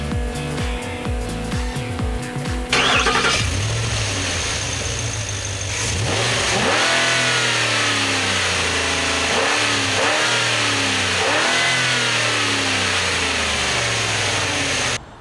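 A 2013 Ford F-150 SVT Raptor engine fires up and revs repeatedly, loud and close, with rising and falling surges over a steady idle.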